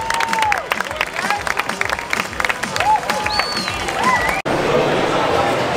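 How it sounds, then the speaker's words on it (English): Clapping and cheering from a lively crowd, with shouting voices and talk mixed in, loud and busy before settling into a denser wash of applause. "big round of applause for"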